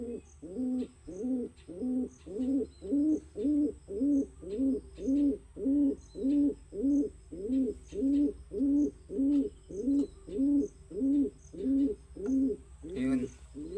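Pigeons being treated for adenovirus give a long run of soft, low coos, about two per second in a steady, unbroken rhythm, close and clear with faint background ticks.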